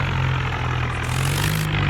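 A tractor engine in a video game drones steadily as the vehicle climbs, a constant low rumbling hum with no voices over it.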